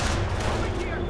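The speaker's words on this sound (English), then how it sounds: "Assault Grenadiers with MP44s takes out a rifle squad." MP44 assault rifles fire from assault grenadiers in a World War II strategy video game, a loud, dense burst of gunfire with overlapping shots and no pauses.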